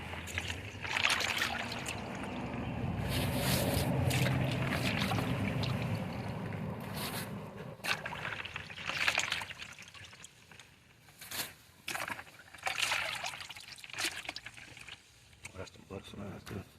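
Water runs from a hose and splashes while fish are cleaned outdoors, an uneven gushing and spattering that comes and goes, with people talking over and between the bursts.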